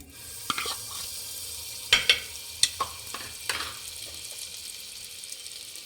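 Soft, steady sizzling of butter and a little oil heating in a pressure cooker, broken by a few sharp clicks and scrapes of a utensil stirring.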